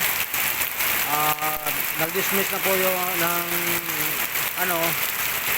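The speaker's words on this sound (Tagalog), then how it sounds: "Napakalakas po ng ulan dahil may low pressure daw" Heavy afternoon rain pours down in a loud, dense, unbroken hiss that fills the whole scene, while a voice talks over it throughout.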